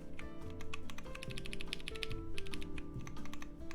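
Rapid, dense typing on a Xeno 75% mechanical keyboard built with Tribosys 3204 switches, a continuous patter of crisp keystroke clacks for several seconds, close but fairly quiet, with no voices.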